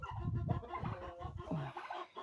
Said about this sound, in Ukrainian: А тут ще півні.